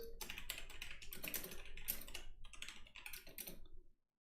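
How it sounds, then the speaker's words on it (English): Rapid typing on a computer keyboard during a Warhammer tabletop tournament, a close, dense burst of clicking keys that stops abruptly near the end. "I'm just typing out the maps to the players."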